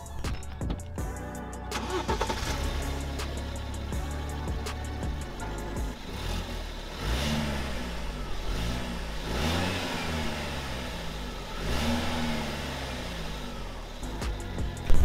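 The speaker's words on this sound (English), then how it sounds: "here's a little quick before of what the car sounds like when we're idling and we're parked up like this" Stock inline-four car engine, parked, idling steadily with a low rumble, then revved quickly a few times with rising and falling engine pitch, close and loud with no talking.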